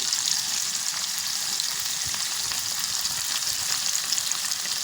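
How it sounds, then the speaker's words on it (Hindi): Onions fry in hot oil with chillies in a pan for a palak dish, a steady bright sizzle with soft stirring, fairly quiet and uninterrupted, with no talking. "अब हम ये प्याज डालेंगे और इसको अच्छे से मिलाएंगे।"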